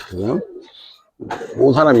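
Coloured Giribaz pigeons coo in close, throaty, warbling phrases, one short call, a pause, then a longer rising coo, with a human voice also present.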